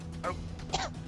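A single short throat-clearing cough from a character in a GTA roleplay game, close and clear over a low background hum, with no talk.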